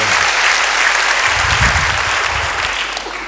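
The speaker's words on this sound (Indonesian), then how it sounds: "Beri tepuk tangan bagi dia." A church congregation claps steadily and loudly for about three seconds, dense and even, then thins slightly as the applause tapers off.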